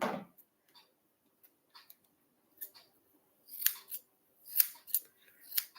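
Scissors snipping through hair at the back of the head, a run of sharp, crisp clicks and snips that grow more frequent toward the end, close-up and quiet with no speech.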